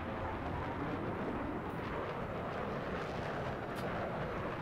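Jet aircraft in Battlefield 3 on Caspian Border, a constant roaring engine rush that stays dense and even from start to finish, with no voices.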